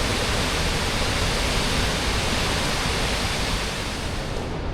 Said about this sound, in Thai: น้ำตกโอเคเลยครับเนี่ย